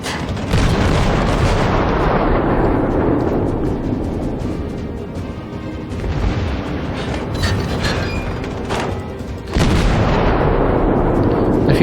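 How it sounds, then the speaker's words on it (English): Heavy naval gunfire in World of Warships, a continuous roar of big booming cannon blasts with one sharp loud salvo near the end, dense and loud with no talking. "Oh, somebody's firing at us."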